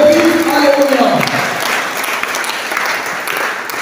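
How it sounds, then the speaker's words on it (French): A church congregation bursts into loud, close applause with cheering during a Sunday service, steady dense clapping that carries on throughout, briefly overlapping a voice at the start. "Donne à la personne du Saint-Esprit des acclamations."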